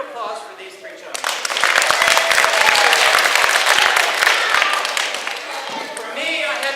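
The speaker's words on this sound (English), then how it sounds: "A round of applause for these three gentlemen." A school audience at an elementary school author visit claps loudly, the applause rising sharply, holding strong for several seconds with some cheering, then tapering off into scattered claps.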